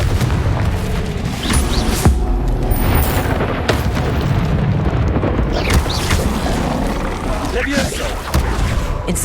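Confringo fire-blast spell in the Hogwarts Legacy video game, a series of loud booming explosions with sharp cracks and rumbling combat noise during a fight.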